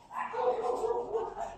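A dog barks and yips close by in a home kitchen, a run of sharp, loud, strained barks with a whiny edge, one after another with almost no gap.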